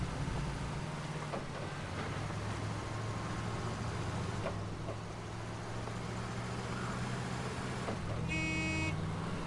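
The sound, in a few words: truck horn honking in SnowRunner video game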